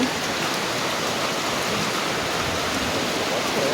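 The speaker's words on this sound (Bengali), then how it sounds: "প্রচুর পরিমাণ কিন্তু বৃষ্টি হইতেছে" Heavy rain pours down in a dense, unbroken hiss, steady and loud from start to finish with no voices.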